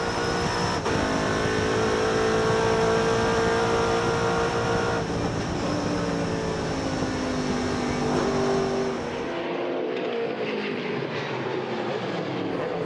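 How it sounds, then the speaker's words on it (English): Race cars lap a circuit in a Kerrick series race, engines roaring loud and close as they pass and shift, then fading sharply near the end. "They brake so deep, these cars, with the big tyre and the aero they've got."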